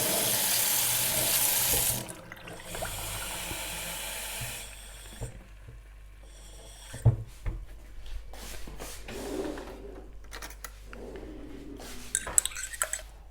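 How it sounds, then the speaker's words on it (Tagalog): Cold water gushes loudly from a kitchen tap for about two seconds and then stops, followed by quieter clinks and handling of dishes and utensils close by. "Lagyan natin ng malamig na tubig."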